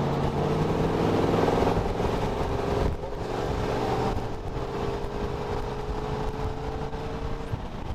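A GMC pickup truck's 402 V8 engine revs and pulls, its pitch rising steadily as it accelerates, a loud droning motor heard from inside or close by.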